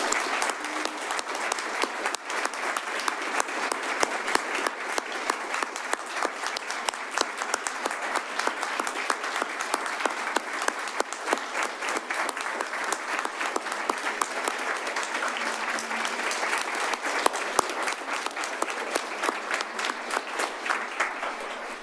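Sustained applause from an audience at a city's 2025 State of the City address, a steady dense wash of clapping holding at even loudness throughout, with no pauses or talk over it.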